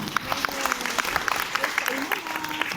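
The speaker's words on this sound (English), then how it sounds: "A round of applause." Audience applause at the 20th commencement exercises of the Filipino Institute in Abu Dhabi, a steady wash of crowd clapping in a large hall with voices mixed in throughout.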